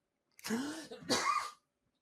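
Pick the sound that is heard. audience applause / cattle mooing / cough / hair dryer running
cough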